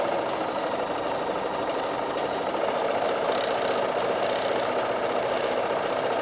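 A Bernina sewing machine stitching a postcard edge, a close, continuous fast whirring hum that runs evenly throughout without pause, and no one speaks.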